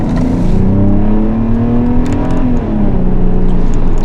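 A 2012 Hyundai Genesis Coupe 3.8 V6 engine revs loudly and close up. A strong, steady drone holds and rises in pitch, then dips briefly before holding again.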